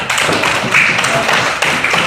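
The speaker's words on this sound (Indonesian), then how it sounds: "Tepuk tangan untuk Alif" Pupils in a classroom clap for a classmate, a close, loud and continuous patter of many hands with no talk over it.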